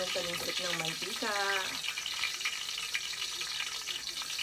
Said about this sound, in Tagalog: naririnig nyo naman yung talintrik ng mantika